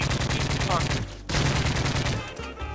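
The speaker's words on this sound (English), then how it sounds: "Oh, someone's shooting me. They're shooting me." Rapid automatic gunfire rattles in the online multiplayer shooter Modern Warfare 3 in loud, close bursts, broken by a short pause before the firing resumes and then tapers off, with no voices over it.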